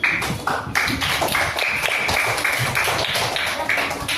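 Children in a classroom clap together in a dense, rhythmic burst that is loud and sustained throughout, with crisp overlapping hand claps.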